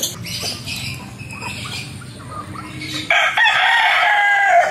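Chickens cluck and call steadily, then a loud rooster crow breaks in near the end, close and strong over the flock.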